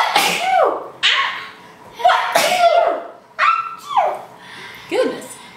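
A woman sneezes repeatedly, about six sharp bursts spaced roughly a second apart, close and loud, each with a breathy falling tail.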